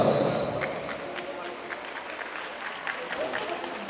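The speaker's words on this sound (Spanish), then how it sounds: "Vamos a recibir con fuerte voto de aplausos" Applause rises for the godfather of the bride and groom at a wedding reception, a crowd clapping at moderate distance with scattered claps and room noise.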